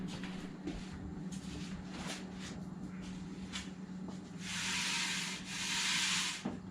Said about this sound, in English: we're going to get a scuff pad and lightly scuff it, knock all the nubs off.